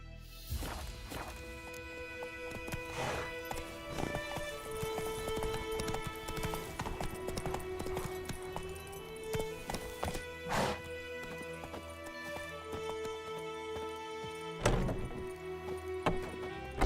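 Roach the horse in The Witcher 3, hooves clip-clopping in a steady rhythm over a layered game soundscape with sustained musical tones and occasional sharper hits.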